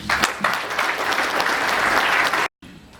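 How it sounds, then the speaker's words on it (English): A morning reflection audience gives a welcoming round of applause for a speaker, thick continuous clapping from many people at full strength, cut off abruptly near the end before a short faint tail. "shall we welcome him with a round of applause"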